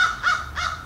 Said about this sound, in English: crows, would you please be quiet?